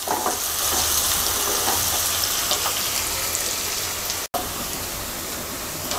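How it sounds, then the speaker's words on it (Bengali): Chopped onions fry in a pan for a Bengali bottle gourd and hilsa fish head curry, a steady close crackling sizzle filling the clip with no voices, broken by one instant dropout near the end. "পেঁয়াজটাকে হালকা ভেজে নেব।"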